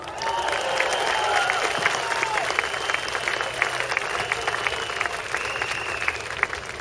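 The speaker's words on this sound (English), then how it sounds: "Please give yourself a round of applause." Crowd at a Singapore election campaign rally in 2011 applauding, dense continuous clapping with some cheers and whistles, fairly loud and sustained from start to finish, with a voice faintly present underneath.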